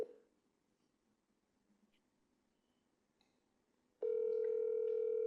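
A phone dialer on a computer produces a steady telephone dial tone that starts abruptly after a few quiet seconds and holds loud and continuous.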